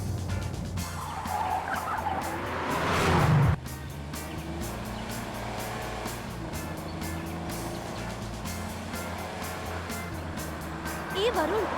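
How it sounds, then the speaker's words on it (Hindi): A car driven fast in a Hindi-dubbed South Indian action crime film, with a loud tire squeal and skid swelling then cutting off sharply, followed by steady engine drone under dialogue and music. "गाड़ी तो इतनी तेज क्यों चला रहा है?"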